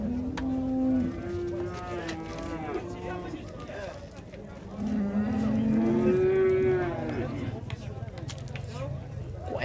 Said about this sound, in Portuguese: Tá levando aqui a vaca